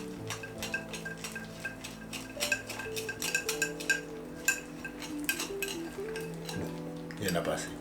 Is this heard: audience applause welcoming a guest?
no